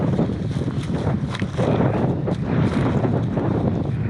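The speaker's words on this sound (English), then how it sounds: "Today it is quite windy" Strong wind buffets the microphone in gusty, roaring bursts that rise and fall continuously.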